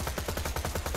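Rapid automatic fire from the Meat Grinder gun in the video game Borderlands: The Pre-Sequel, a steady, evenly spaced stream of loud shots repeating about ten times a second, with no talk over it.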